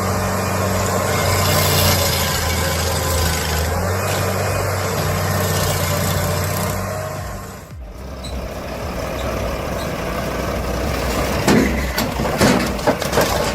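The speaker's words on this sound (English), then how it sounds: "Watch the Carlton Stump Grinder." A Carlton stump grinder's high-torque engine runs loudly and steadily, then its tone drops abruptly partway through before continuing at a rougher, lower pitch with occasional clunks.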